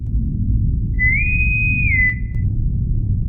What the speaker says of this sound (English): a bosun whistle comes on